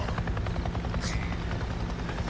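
A helicopter in the video game Days Gone drones close by overhead, its rotor chopping in a rapid, steady rhythm with a loud low hum and no voices.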